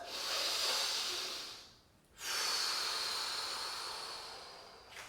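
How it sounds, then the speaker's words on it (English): Deep breathing during a kettlebell warm-up: a long, loud inhale-like rush of air, a short pause, then a second slow, sustained breath heard close to the microphone, with no talking. "big deep breath"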